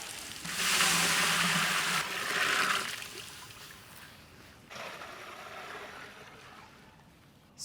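Water pours into a pot of hot fried onions, coriander seeds, ginger, garlic and green chilies, giving a loud hissing splash that fades, then a second softer pour and simmering, close up with no talking.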